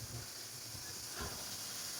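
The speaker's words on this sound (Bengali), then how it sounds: "পেঁয়াজ ভাজাভাজি চলছে।" Onions fry in a large pot for a duck curry at an outdoor picnic, giving a steady, fairly loud broadband hiss and sizzle throughout with no talking.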